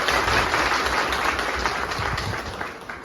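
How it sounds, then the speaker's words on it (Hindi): Crowd at a swearing-in ceremony for newly elected panchayat representatives in Dwarahat, giving a sustained burst of loud clapping that fills the space and tapers slightly toward the end. "जोरदार तालियों से उनका स्वागत करें"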